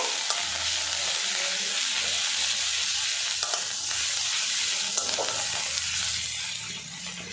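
Ginger garlic paste, a spoonful added to frying onions for an egg dish, hisses steadily in hot oil while a spatula scrapes and stirs through it with occasional clicks, close and continuous.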